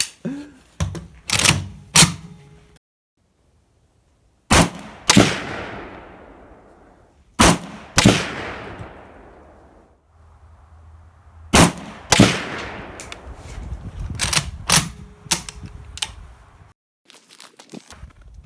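Sharp, loud gunshots from a PSA AK-47 rifle at a shooting range, fired in spaced pairs and small clusters, each crack followed by a long echoing decay, with gaps of quiet between groups.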